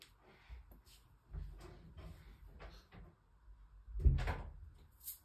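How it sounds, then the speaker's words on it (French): Indoors, a door is handled with a few soft bumps and creaks, then shut with a single louder thud near the end, close by. "je vais fermer la porte parce qu'il y a du bruit"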